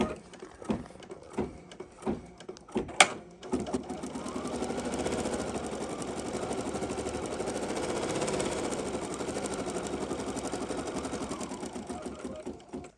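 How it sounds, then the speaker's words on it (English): Embroidery machine sewing a placement stitch, starting with a few separate mechanical clunks and taps, then running into a steady fast needle chatter that stays close and moderately loud with no voices. "the first color that's going to stitch is simply just the placement stitch for where I'm going to put my fluffy batting"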